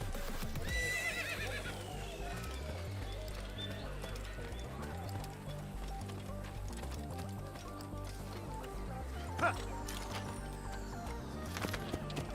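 A horse in a video game whinnies and clip-clops, with steady rhythmic hoofbeats and a neigh over game sounds and music.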